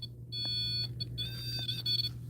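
A small electronic device in a basement gives off a faint, high, steady electronic beep that cuts in and out over low hum, as if its battery were running low.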